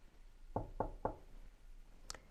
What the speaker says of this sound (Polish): zaczęło pukać w sufit pod spodka